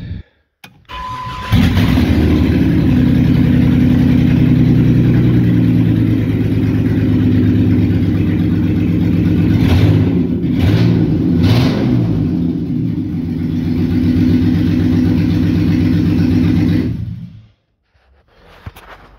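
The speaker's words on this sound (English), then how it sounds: "So this is what it sounds like without an exhaust." Jeep KJ engine running with no exhaust fitted, a loud raw rumble sustained for about sixteen seconds with several sharp revs in the middle, then cut off abruptly into near silence.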